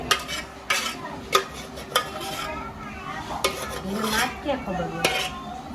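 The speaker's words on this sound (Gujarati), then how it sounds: "સરસ રીતે હલાવીને બધા બટેટાને તેમાં મિક્સ કરી લઈએ" Boiled potatoes being mixed with spiced tempering in a metal pot, a spoon clanking and scraping the sides in irregular strokes over a faint sizzle, close by with no speech.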